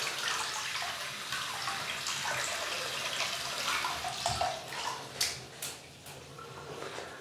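Running tap water pours steadily as a shaving brush is wet beneath the stream, with some splashing and drips and a few sharper knocks near the end.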